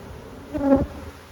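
A honey bee buzzes close by in a bee yard as a hive is worked over, one brief nearby pass that swells and fades within about a second against a quiet background.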